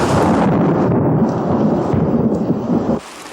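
Thunder rumbling during a storm, a loud, sustained low roll that holds steady for about three seconds and then cuts off abruptly.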